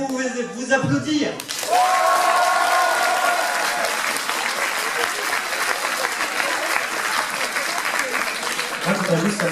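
Audience applause at a cosplay parade in Dijon, a dense crowd clapping steadily and loudly for several seconds after a short stretch of music, with a voice briefly heard near the start.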